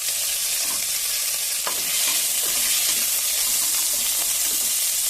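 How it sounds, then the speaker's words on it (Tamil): Onions and herbs sizzle steadily in a hot pan for mutton nalli kulambu, a constant bright frying hiss with occasional scraping stirs, close and fairly loud, no voices. "இது நல்லா வதக்கிக்கலாம். வெங்காயம் ஓரளவுக்கு வதங்கிடுச்சுங்க."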